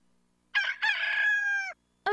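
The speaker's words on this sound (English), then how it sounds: "I spy a rooster" A cartoon rooster in the I Spy Junior video game gives one clear, loud cock-a-doodle-doo crow, a stuttering start followed by a long sustained call, standing alone with silence before and after.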